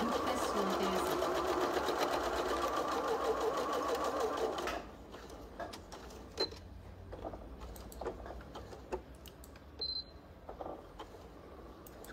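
A sewing machine stitching fabric runs in a loud, continuous mechanical whir for about five seconds, then stops, leaving quieter scattered clicks and handling noises.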